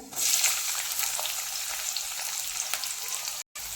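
Cumin and onion sizzle loudly in hot oil as they fry for a spicy Maharashtrian prawn kharda, a continuous close hiss with light stirring and a brief drop near the end.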